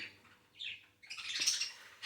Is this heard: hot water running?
no